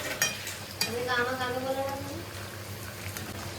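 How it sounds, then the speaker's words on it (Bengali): Potato and bitter gourd frying in a pan, a steady close sizzle broken by a few sharp stirring scrapes at the start, with a faint tonal sound drifting through the middle. "আলু করলা ভাজা হচ্ছে"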